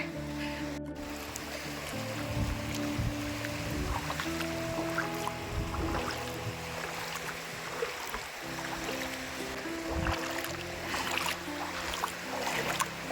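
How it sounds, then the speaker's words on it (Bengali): Feet wade and slosh through incoming tidal seawater on the coast near Balasore, with steady splashing and dripping close by and a continuous wash of surf behind. "এখানে পুরো জোয়ারের জল ঢুকে গেছে এখন এই জল পেরিয়ে যেতে হবে"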